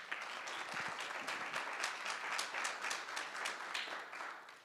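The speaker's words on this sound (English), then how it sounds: "How about a round of applause for those guys?" Steady applause from a crowd at a guide dog graduation, many hands clapping in a dense wash that holds evenly throughout with no voices over it.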